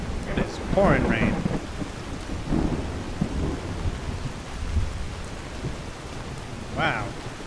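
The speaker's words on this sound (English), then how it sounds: "Pouring rain." Heavy pouring rain with deep rolling thunder in a stormy outdoor scene of the video game Skyrim, a steady wash of rain broken by a few loud thunder rumbles, with brief bits of speech over it.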